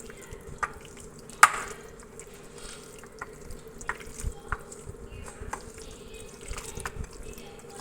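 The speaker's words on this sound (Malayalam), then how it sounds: "ഇതുപോലെ നമുക്ക് കൈയിട്ടൊന്ന് മിക്സ് ചെയ്തെടുക്കാം. അപ്പോൾ എല്ലാ പീസസിലേക്കും ഈ മസാല കറക്റ്റായിട്ട് വന്നോളും." Pieces of tuna fish mixed by hand with masala, soft wet squelching and light knocks against a bowl in irregular bursts, faint and close with a steady hum behind.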